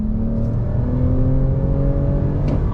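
A 2021 Toyota Camry TRD sport sedan accelerates hard on throttle, a loud, close engine note rising smoothly and steadily through the whole stretch, with no talk.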